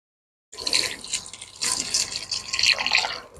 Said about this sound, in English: Next, I'm going to pour in 2 cups of milk.